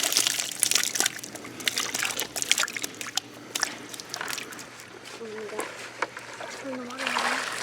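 Hundreds of fish plop and splash in shallow water close by during a nighttime fish rescue, a scattered run of wet slaps and trickles with brief voice sounds near the end.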